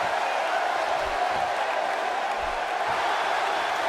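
A steady roar from an arena crowd in the wrestling game WWE 2K18 swells during a women's match, a dense, continuous wash of cheering that holds at an even level throughout with no talk over it.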